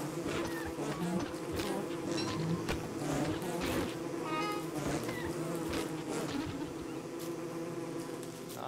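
Bees in the Don't Starve Together video game buzz steadily and fairly close throughout, a continuous droning hum over light game ambience.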